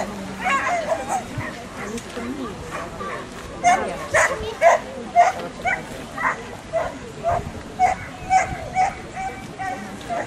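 A dog barks repeatedly at a dog agility competition, short sharp yips in quick, uneven bursts at moderate distance, heard under a commentator's running talk.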